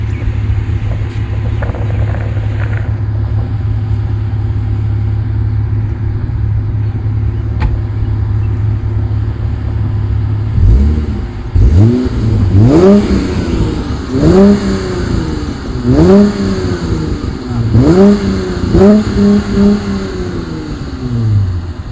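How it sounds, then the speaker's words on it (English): A modified Dodge Challenger muscle car idles with a deep, bass-heavy exhaust rumble, then revs hard several times in rising and falling surges, loud and close. "So the car exhaust is fully with bass"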